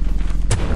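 A landmine detonates in the video game Lethal Company: one sudden, loud, sharp blast that cracks out and ends quickly over a steady low rumble of background noise.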